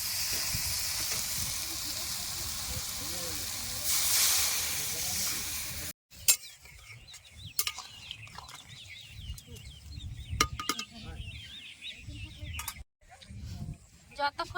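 Water splashed into a pan of frying taro with spices: a loud, close, hissing sizzle for several seconds, then it cuts out and softer bubbling cooking sounds with scattered clinks follow.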